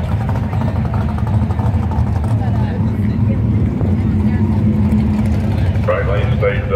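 A 1979 Camaro and a 1955 Chevrolet Bel Air at a drag race during a Chevy car show, engines droning steadily at the line under a track announcer's voice, with a rising engine note near the end.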